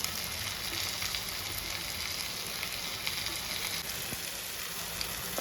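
Onions and tomatoes sauté on a medium flame for Thalassery dum chicken biryani, giving a steady, soft, even sizzle with faint occasional stirring. No one speaks.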